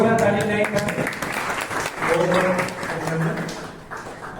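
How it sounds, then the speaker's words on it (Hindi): Loud applause and clapping from an audience at a martyrs' day ceremony honoring a speaker, continuous dense claps with voices and chatter mixed in throughout. "जोरदार ताली देंगे।"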